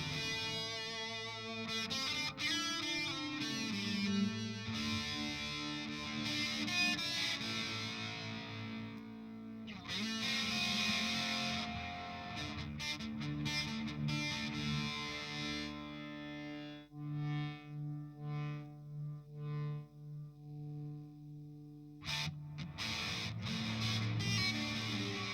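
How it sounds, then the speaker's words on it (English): Electric guitar played through a Walrus Audio Melee pedal, with a dark reverb and an added octave-lower voice layered under a fuzzy, distorted tone. Sustained chords ring out and fade, with some choppy, stuttering bursts near the end. "with the second reverb, it's darker, but there is also an octave lower"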